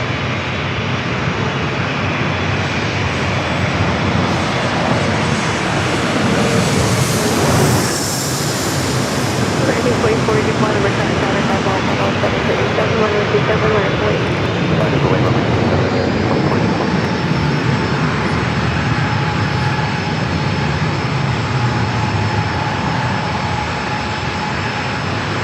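A Jazz airliner arrives at San Diego airport, its engines roaring loudly and steadily throughout with a rising and falling whine as it passes close by.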